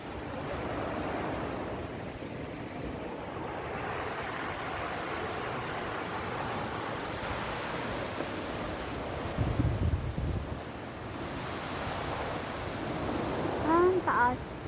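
Sea waves wash continuously at the foot of a cliff at Cape Collinson, heard from above as a broad, steady surf roar blended with gusty wind buffeting the microphone, with a few brief louder bumps.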